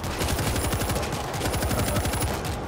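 A machine gun firing in the game World War Z, rapid even bursts of shots rattling in quick rhythm, loud and continuous with a brief pause near the end.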